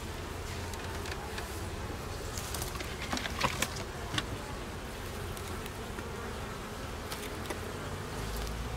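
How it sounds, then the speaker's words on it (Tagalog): Honeybees buzz in a dense, steady drone at an opened, lightly smoked beehive, close up, with scattered faint taps and rustles and no voices. "Pausukan din po natin ng konti ang mga bubuyog para hindi po sila magiging aggressive."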